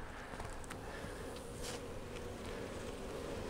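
Honeybees buzz around an open hive during an inspection, a faint, steady hum close by with a few soft handling clicks.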